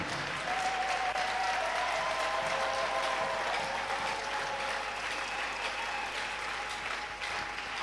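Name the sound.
church congregation applauding and acclaiming Jesus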